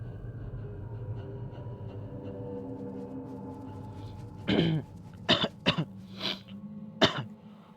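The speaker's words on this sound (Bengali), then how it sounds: "ঠান্ডা লেগেছে না, জন্য একটু কাশতে হচ্ছে।" A person with a cold coughs and clears their throat several times in short, sharp bursts, close and loud over a quiet hum from a horror game.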